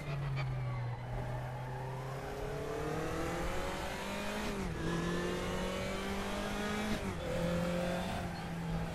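A race car laps in the RaceRoom racing game with a five-speed gearbox, its engine whining loudly and continuously as it climbs through the revs, with sharp dips at each gear change and faint tyre squeal.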